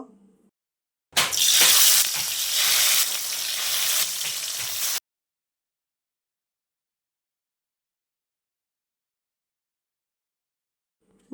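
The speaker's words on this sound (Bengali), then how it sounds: "তারপর একই কড়াইতে আমি বাটা মাছগুলো ভেজে নিব" Bata fish fry in hot oil in a kadai, with a loud, dense, close sizzle lasting about four seconds, bracketed by silence.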